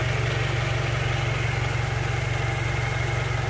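A 2012 Toyota Camry 2.5 V with a Dual VVT-i 2500 cc engine idles steadily, a smooth low hum with a fine rhythmic pulse, close and constant with no voices.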